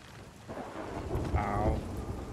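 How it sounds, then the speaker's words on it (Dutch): A short rumble of thunder with rain in a video game as lightning strikes a rowboat, building from quiet to a loud crackling peak before fading, with no voices. "Deze roeiboot, hè? Wordt geraakt door de bliksem."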